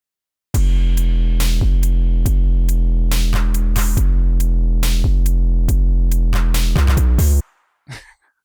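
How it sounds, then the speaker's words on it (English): A clean 808 bass drum sample plays a loud, booming, sustained pattern of hits about a second apart, quickening into a run of fast hits near the end before cutting off, followed by a brief faint tail. "Another 808 under here. This is cleaner."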